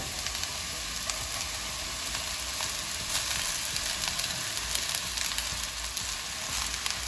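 Boiled rice fries in a pan for Thai basil fried rice, making a continuous, moderately loud hiss and sizzle with faint crackles and no pauses.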